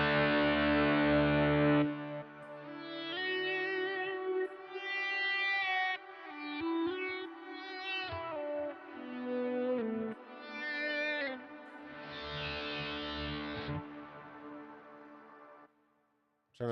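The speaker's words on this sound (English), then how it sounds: "And this is a crunch with delay." Crunchy electric guitar from a Kemper profile of a Deluxe amplifier with delay, playing a run of sustained chords and melodic notes with echoing repeats, loud and alone before cutting off at the end.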